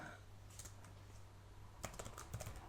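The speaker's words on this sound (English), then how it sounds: "I'm just going to type in here" Quick bursts of keystrokes on a computer keyboard, light clicks near the mic in a short irregular run, quiet with a low background hum.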